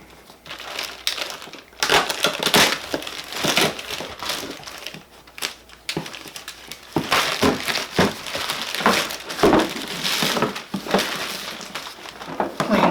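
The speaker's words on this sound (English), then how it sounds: "so we're going to do a little unboxing for it here" Opening a delivered package, close crinkling, crumpling and tearing of packaging in irregular bursts with short quiet gaps between handling noises.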